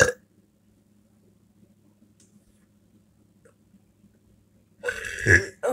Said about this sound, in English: I'm surprised I'm burping now and not earlier, though.